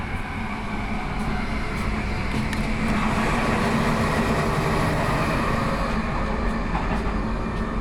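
Inside a moving passenger train, a steady rumble and rolling rail noise hold throughout, with faint clicks and rattles overlaid and no voices.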